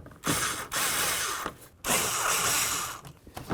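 Hose clamps on the mass airflow sensor of a 1992-2000 Chevy Tahoe are loosened with a ratcheting tool, giving loud, close whirring bursts broken by short pauses.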